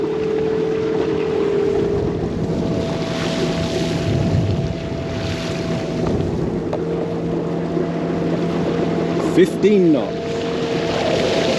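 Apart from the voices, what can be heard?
Overboat electric foiling boat at full speed, wind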